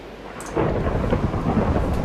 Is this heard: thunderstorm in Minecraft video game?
yes